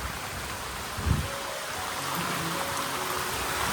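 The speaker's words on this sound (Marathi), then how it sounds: "पाऊस बघा असा वरून आला" A steady hiss of heavy rain falls continuously at moderate volume in the Konkan hills, with a brief louder thump near the start.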